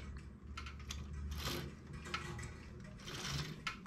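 A knitting machine carriage moves the needles back and forth, giving soft mechanical clattering and ratcheting in uneven bursts, fairly quiet and close, with no talking.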